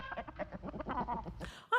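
Chicken clucking plays as a sound effect in a live Christmas radio play, a rapid series of close clucks and squawks ending in a sharper cackle.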